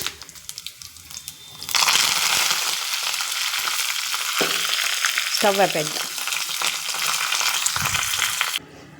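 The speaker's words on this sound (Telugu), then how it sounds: "బాగా నూనె వేడెక్కింది ఆవాలు వేద్దాము అలాగే జీలకర్ర" Hot oil erupts into a loud, crackling sizzle as mustard seeds and cumin are dropped in for tempering, the popping hiss continuing steadily with a few clinks and a brief voice.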